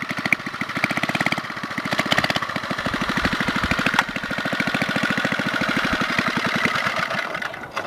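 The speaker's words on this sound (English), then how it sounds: "Baja dirt bug, doodle bug sort of thing with a 2 horsepower Briggs and Stratton side valve motor in it" A 2 hp Briggs & Stratton side-valve engine in a Baja dirt bug idles low and steady, a close, even chugging putter that keeps going without a break.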